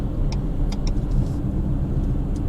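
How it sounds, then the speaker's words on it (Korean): Steady road and tyre rumble fills the cabin of a moving 2020 Renault XM3 (Arkana) with a 1.3 turbo engine, loud and constant, with a few faint light ticks on top and no talking. "특히 이 노면 소음이 조금 있는 편입니다"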